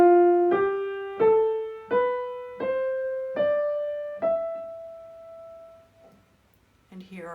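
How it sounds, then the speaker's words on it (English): Phrygian scale on a keyboard, white keys from E up to E: six clear notes struck one after another at a steady pace, each ringing and decaying, the last note sustained before fading, then a brief voice at the end. "The scale using 8 white keys, beginning and ending on E, is called a Phrygian scale, or a Phrygian mode."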